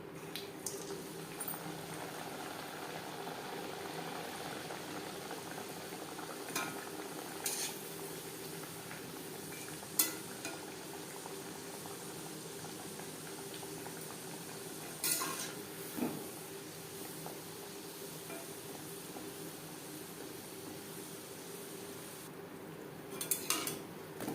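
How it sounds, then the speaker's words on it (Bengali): Moong dal kachuri deep frying in a generous amount of hot refined oil over a medium flame, a steady close bubbling hiss with occasional light clinks of a utensil against the pan. "কচুরি ভাজবার জন্য বেশ খানিকটা রিফাইন্ড অয়েল গরম করে নিয়েছি"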